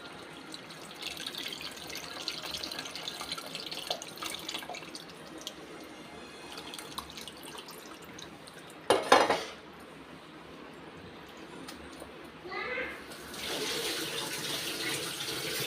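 Tamarind broth is poured into a pan of fish curry, a soft liquid trickle and splash, with a brief louder clatter of the vessel partway through and no voices.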